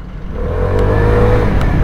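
A Vespa GTV 300 scooter engine revs up loud and close, a rising whirring drone that builds steadily through the short burst.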